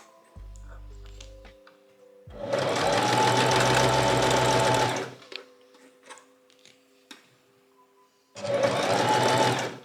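A sewing machine stitches the seam of a fabric scrunchie in two loud, steady runs, a long burst and a shorter one after a pause, with quiet handling sounds between.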